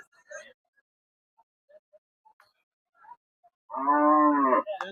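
A single loud, drawn-out cow moo rises near the end at a village cattle market in Hazratpur, after a quiet stretch with only faint scattered background sounds.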